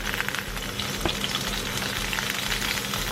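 A steak sears in a hot pan under a flat weight, giving a dense, even crackling sizzle like light rain, steady and close throughout with one small knock.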